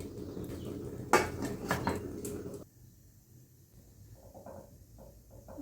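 A metal baking tray of almond and pistachio cookie sticks clatters into a preheated oven, with a couple of sharp metallic knocks and scrapes, then gives way to quiet kitchen background with faint small knocks.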